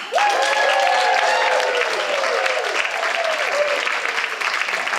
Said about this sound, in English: let's hear a big, long, heartfelt applause for our favorite one-song band